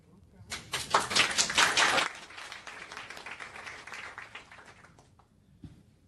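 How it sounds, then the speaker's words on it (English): Audience applause at a health care policy gathering swells quickly into dense, loud clapping, then gradually thins and fades over several seconds until only a few scattered claps remain. "See if we can get the applause to build"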